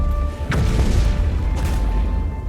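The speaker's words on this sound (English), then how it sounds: "It is the first, and so far only, two-person mount, allowing a second rider to man its powerful cannons." A siege turtle mount's cannons fire in the video game Guild Wars 2: two heavy booms about a second apart, each followed by a low rumble, loud and without speech.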